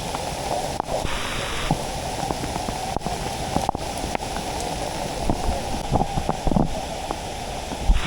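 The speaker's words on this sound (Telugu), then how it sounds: "ఘోరంగా పడుతుంది వర్షం అయితే" Heavy rain pours at a newly discovered beach-like waterfall in Telangana, a dense, steady hiss with scattered sharper drops and splashes, loud and close.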